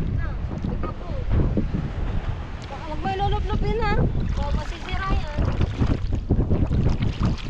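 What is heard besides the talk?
strong wind at sea on a boat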